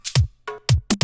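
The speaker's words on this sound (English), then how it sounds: "it's just sorts of reversed ride cymbals and clicks and bleeps and bloops" Reversed ride cymbal swells, clicks and bleeps from a Vengeance sound effect pack, forming glitch-hop percussion: a quick pattern of noisy washes, punchy low hits and a short pitched blip, close and dry.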